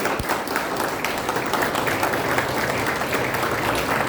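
Audience clapping at an Arya Samaj Trust gathering, a steady dense patter of many hands filling the whole stretch at moderate level with no break.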